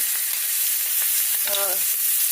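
Unsalted butter and herbs sizzle loudly in a cast iron pan, a dense, steady hiss from close by, with a few faint clicks and a brief tonal squeak partway through.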